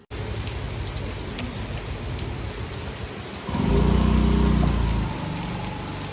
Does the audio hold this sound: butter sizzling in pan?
no